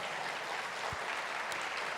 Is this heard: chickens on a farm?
no